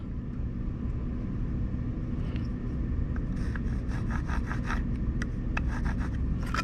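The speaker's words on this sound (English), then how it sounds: "I'm going to hold it tight against the edge, and I'm going to draw a line straight across" Pencil drawing a line across wood along a speed square held tight against the edge, a soft scratchy rub with a few short strokes over low background rumble.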